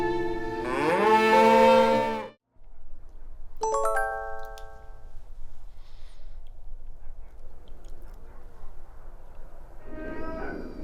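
Korean Hanwoo cattle on a farm in a cold winter village; one long, loud moo opens, followed by a calf's higher bleating call and another lower moo at the end, with farm background noise throughout.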